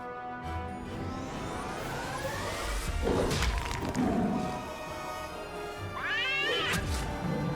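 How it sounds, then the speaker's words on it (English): The cat spell in the fantasy video game Wizard101 firing off, loud sliding cat meows and yowls over a busy game soundtrack, joined by whooshing and crashing spell effects. "cat spell coming out"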